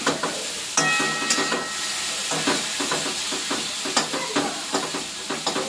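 Leafy greens fry in a pan with a constant close sizzle, while a spatula scrapes and stirs in uneven strokes. No one speaks.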